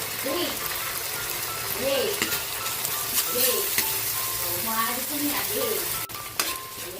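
Onion and oyster sauce sizzle hard in a stir-fry pan for a squid dish, a steady loud frying hiss with occasional stirring scrapes, while someone talks over it throughout.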